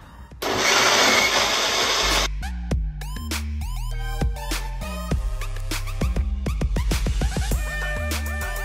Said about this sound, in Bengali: আগারের এই পার্সোনাল 3-in-1 ব্লেন্ডার জার এখন আমি অন করবো